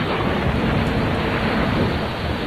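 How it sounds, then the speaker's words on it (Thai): An early rainy-season storm with strong wind and thunder roars as a dense, continuous wash of rain and rumbling noise, loud and unbroken throughout, with no speech. "ในต้นฤดูฝน พายุพัดแรงจนกิ่งไม้หักโค่นเกลื่อนอุทยาน"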